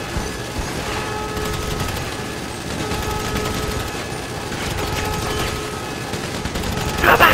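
Rapid gunfire and machine-gun bursts in Grand Theft Auto Online run steadily and loud for the whole stretch, with faint voices underneath.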